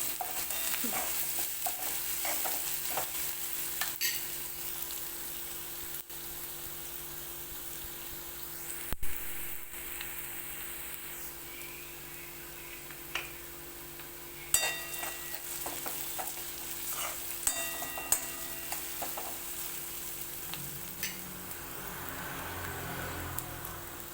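Chopped onion fries with salt in a pan over the stove, a continuous soft sizzle and hiss punctuated by scattered spoon scrapes and clicks as it is stirred, close up, with no one speaking.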